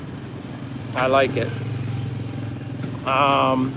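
Traffic on a city boulevard in the Philippines, with motorbikes and trucks, hums steadily in the background beneath someone speaking, a low continuous rumble with engines idling and passing.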